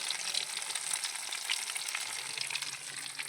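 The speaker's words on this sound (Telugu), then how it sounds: "వాటర్ ఉడికిపోతుంది నూనెలో" Steady, loud sizzling of an egg frying in hot oil, a continuous crackling hiss throughout with no talking.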